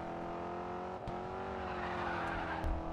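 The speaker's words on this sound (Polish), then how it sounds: "Jaki drift!" A car drifts in the racing video game GRID 2, with a continuous engine drone and a sustained tire squeal. The sound is steady and fairly quiet, with a faint bump partway through.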